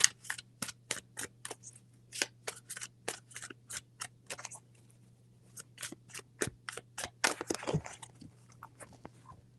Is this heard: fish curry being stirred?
no